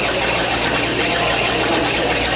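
A small engine turning over at a very slow RPM, giving a continuous close mechanical hum with a faint squeal on top and no talking.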